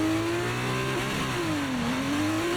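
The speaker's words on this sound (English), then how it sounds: "Clutch in, fanning them revs, looking to get a good start again." A Formula 2 race car engine in F1 23 revs hard on the grid at the Bahrain race start, a loud, steady high-pitched whine that climbs, dips and rises again, with a dense engine drone underneath.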